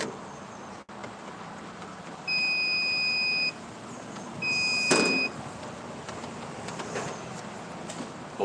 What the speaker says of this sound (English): It's beeping right there.